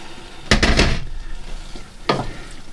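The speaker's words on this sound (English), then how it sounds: "let's stir that in, then we can add our water" A spoon stirs pie gravy in a pan, giving a few short scraping and sloshing bursts, with a brief splash as water is poured in near the end, close and moderately loud.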